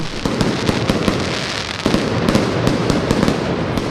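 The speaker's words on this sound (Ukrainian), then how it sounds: "впродовж майже п'яти хвилин над майданом розривалися вогні святкового салюту" Rapid, continuous crackling and popping of a New Year fireworks salute over a city square, loud and dense, with repeated sharp bursts layered over a rumbling wash.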